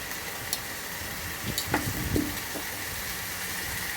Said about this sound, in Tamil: இப்போ நல்லா மசாலாலாம் போட்டு நல்லா வதக்குறோம்